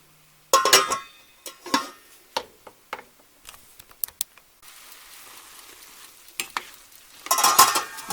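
Broccoli and peas sizzle in a covered pan, with sharp clatters and taps of lid and utensil at intervals and a soft steady frying hiss between them, ending in a louder burst of sizzling.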